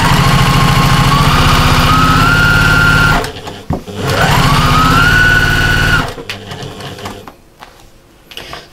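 A sewing machine running a zigzag seam along cushion fabric with binding, two loud bursts of fast stitching whose pitch rises as it speeds up, separated by a short pause, then quiet handling noises.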